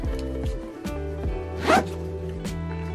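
A single quick zip sound rises briefly over steady background music, short and close.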